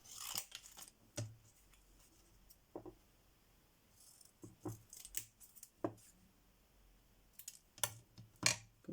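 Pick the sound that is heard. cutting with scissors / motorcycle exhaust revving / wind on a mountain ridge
cutting with scissors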